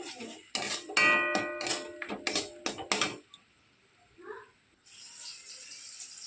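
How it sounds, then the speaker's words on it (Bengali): Cooking being stirred in a pan, a run of sharp metallic clatters and scrapes of a spoon against the pan, close and loud, then a few fainter rattles after a pause. "এবার এটাকে নাড়াচাড়া করে আমি নামিয়ে দেবো"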